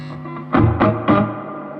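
An overdriven Marshall TSL100 JCM2000 tube guitar amplifier on its lead channel with spring reverb sounds sustained distorted notes, with three struck accents and a reverberant tail.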